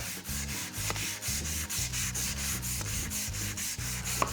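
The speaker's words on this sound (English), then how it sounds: "Almost done sanding" 320-grit sandpaper rubs back and forth on spalted beech in steady, rhythmic strokes, a continuous close scratchy hiss pulsing with each pass.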